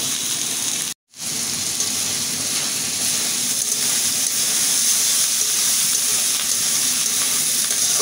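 Spice masala with salt sautéing in a pan for a jackfruit-seed and dried-fish bhuna gives a loud, steady, close sizzle like heavy rain. It cuts out briefly near the start, then carries on evenly with no talk.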